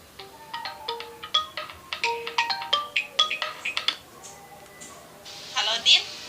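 A phone ringtone plays a bright, repeating melodic pattern of short beeping notes, close and clear, then stops, followed by a brief higher electronic chirp near the end.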